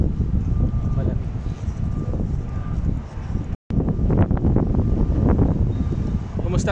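Steady wind buffeting the microphone outdoors on a hot day in a cool breeze, a broad constant roar with a brief dropout midway, while people talk faintly underneath.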